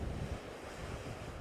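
Ocean waves crash and surge against concrete coastal defences, a continuous rumbling wash of surf with wind buffeting the microphone, close and steady throughout.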